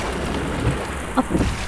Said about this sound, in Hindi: इतनी तेज बारिश हो रही है